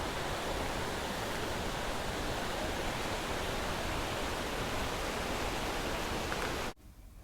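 A waterfall roars in a continuous, loud, close hiss of falling water, unbroken for several seconds before cutting off abruptly at the end.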